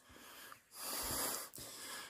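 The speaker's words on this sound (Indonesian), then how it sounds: "jalan nanjak kayak gini tuh, waduh, ampun-ampunan ngos-ngosan" Heavy, ragged breathing from a hiker climbing steeply uphill on Mount Sumbing, with harsh wheezing gasps close to the mic, a short pause, then another long strained exhale.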